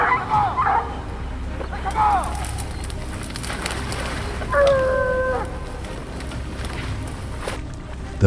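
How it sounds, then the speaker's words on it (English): Hunting dogs working wild feral hogs in dense brush give scattered barks, yips and a whining yelp over a steady noisy outdoor background, at moderate distance. "the other two dogs use their sounds to distract and control the wild boars"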